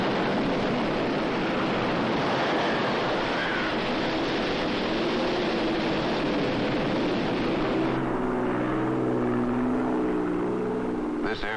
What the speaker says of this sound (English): This airplane is heading toward a hurricane.